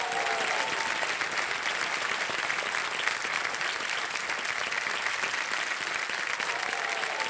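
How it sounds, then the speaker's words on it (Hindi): A studio audience applauds a KBC Under 25 contestant, steady sustained clapping filling the room at an even level throughout, with no talking over it. "सराहना करते हैं और उसके लिए ताली बजाते हैं"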